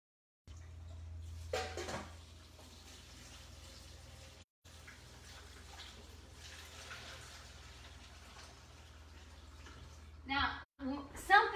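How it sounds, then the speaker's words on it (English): Cold tap water runs steadily over cooked spaghetti noodles as they are rinsed, a soft continuous splashing with a brief break, while someone talks over it and louder clatter comes near the end. "Always rinse them in cold water to stop the"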